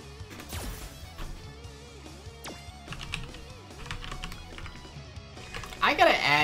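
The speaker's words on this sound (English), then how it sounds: "my friends list just because I hate typing in his name" Computer keyboard typing, scattered light clicks and taps over looping background music and game sounds, with a louder burst of noise near the end.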